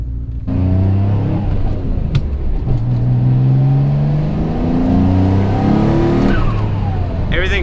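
A built twin-turbo Mitsubishi 3000GT pulls hard on the road, its engine note climbing steadily through the gears with a brief break at a shift, loud and close from inside the car.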